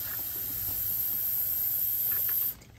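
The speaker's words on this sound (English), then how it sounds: "I'm gonna blow out the emergency drain pan with the line" Compressed air from a hose blows out an AC condensate drain line and emergency drain pan, a steady loud hiss that cuts off abruptly near the end.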